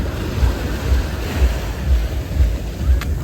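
Sea waves roll in at South Anjuna beach in Goa, a steady wash of surf with low rumbling surges every half second or so, muffled by wind noise on the microphone, and no one talking.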